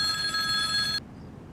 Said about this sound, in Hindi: अरे फोन बज रहा है, कोई तो सुनो।